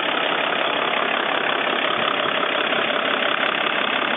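A Mercedes Sprinter van engine idling smoothly and evenly with no skips or misses, a loud, steady mechanical drone close by.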